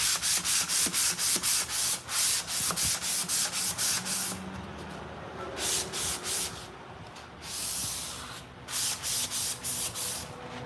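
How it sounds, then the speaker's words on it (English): Repeated scrubbing strokes of a sanding sponge smoothing painted furniture, steady back-and-forth rhythm with brief pauses, close and fairly loud, no talking. "Grab your sanding sponge."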